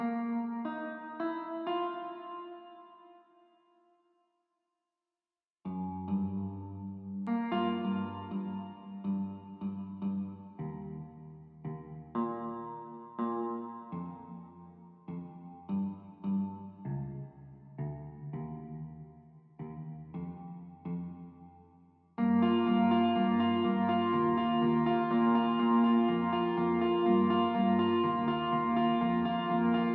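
A realistic-sounding virtual guitar loop built from Omnisphere layered with another guitar plugin plays plucked melodic phrases with a short gap, then swells into a fuller, sustained strummed section near the end.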